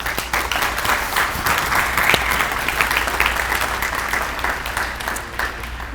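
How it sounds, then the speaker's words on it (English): Sustained applause from a large audience, dense and even clapping that stays loud throughout without letting up. "How about a round of applause for them?"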